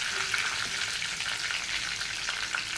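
Curry leaves and grated ginger fry in a hot pan, a steady close sizzle with crackling pops running the whole time, no voices.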